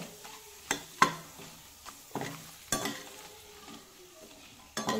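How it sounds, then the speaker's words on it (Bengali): Papad fries in hot oil with soft sizzling, broken by sharp scraping and tapping of a utensil against the pan every second or so, quiet and close. "তেল দিয়ে পাঁপড় ভেজে নিচ্ছি"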